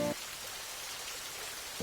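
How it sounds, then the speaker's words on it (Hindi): Rain falls steadily on a roadside tea stall, a dense even hiss of drops that runs without a break. "बरसात लग गई है।"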